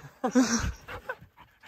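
An excited dog pants in quick bursts and lets out high whimpers and yips at close range, loud at first and then trailing off into fainter breathy sounds.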